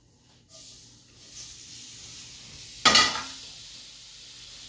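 Tomatoes hit a hot pan and start to fry: a soft hiss rises, then a sudden loud sizzling burst that settles into a steady close crackle.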